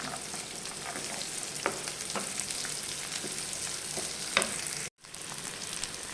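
Cashews sauté in a pan for paneer butter masala, giving a steady soft sizzle with occasional clinks of a stirring spoon, broken by a brief cut of silence near the end.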